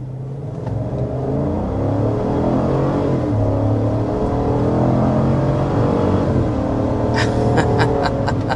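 A 6.2-liter V8 in a 2026 Chevy Tahoe High Country or GMC Yukon Denali SUV pulls hard from a stop, its engine note rising and holding a loud, steady roar with a few sharp ticks near the end.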